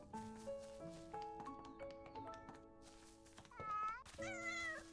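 Cat meows ring out in the video game Little Witch in the Woods, several short mewing calls over a busy tinkling melody and soft taps, with a louder, rising meow near the end.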